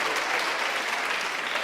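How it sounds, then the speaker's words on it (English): An audience claps steadily for under two seconds at a talk: a dense, even wash of many hands, moderately distant, with no voices on top. "If I get applause for that"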